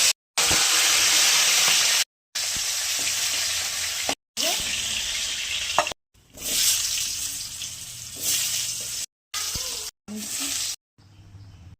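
Washed Gobindobhog rice frying in hot oil in a pan for a Bengali muri ghonto made with a katla fish head: a loud, steady sizzle that cuts off abruptly several times.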